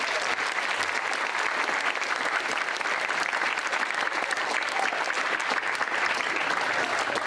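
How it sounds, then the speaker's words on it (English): Steady, dense applause from an audience at a debate championship, a sustained wash of many hands clapping at an even level throughout with no break. "So let's have a round of applause for all of them."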